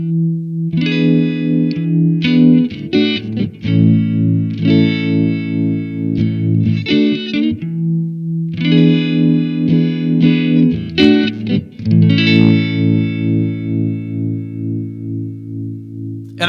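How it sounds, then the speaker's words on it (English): Distorted electric guitar through a Blackstar Amped 2 with a pulsing tremolo and swirling, rotary-like wobble, chords and riffs played loud and up close with no talking. "There's also a nice tasty tremolo"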